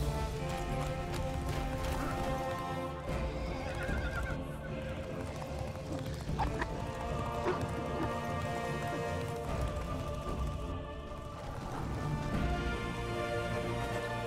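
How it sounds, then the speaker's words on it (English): Galloping horse hooves in Castlevania: Lords of Shadow ring out as a steady clip-clop with whinnies over a dense game soundtrack, lasting throughout at moderate loudness. "Oh, my horse is back."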